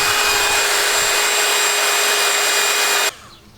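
Polishing machine running on an alloy wheel rim during rim renovation, a loud steady whine with a constant tone that cuts off abruptly near the end, leaving faint room noise.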